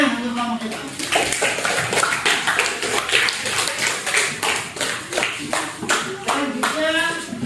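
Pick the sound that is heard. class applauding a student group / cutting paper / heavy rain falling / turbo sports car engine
class applauding a student group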